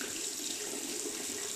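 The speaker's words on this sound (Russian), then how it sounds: "зато найдем воду из-под крана" Tap water running from a kitchen faucet over a Honor Band 6 fitness band, a steady close hiss of pouring water with no pauses and no voices.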